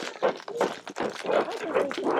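Great Pyrenees puppies whimpering and yipping close by in short, overlapping bursts, with a person talking over them.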